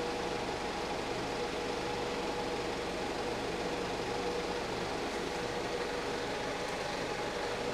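A CC15 hydrogen engine carbon cleaning machine hums and whines without change, a constant mechanical running noise with no talking.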